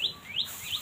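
Several birds sing in a tree, with short rising chirps repeated three times in quick succession, fairly faint over a quiet background.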